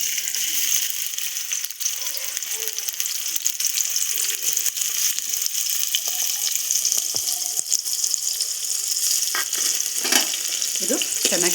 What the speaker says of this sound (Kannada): ಇದಕ್ಕೆ ಒನಿಯನ್ ಕಟ್ ಮಾಡಿದಂಥ ಒನಿಯನ್ ಹಾಕ್ತಾಯಿದ್ದೀನಿ.